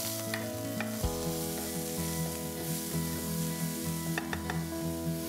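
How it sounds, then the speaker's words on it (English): Cumin seeds, asafoetida and onions fry in hot oil, a steady crackling sizzle with stirring scrapes and a sudden shift as ingredients go in, close, with no talking. "Once the oil is nice and hot, I'm going to add some cumin seeds, asafoetida, and next add in the onions."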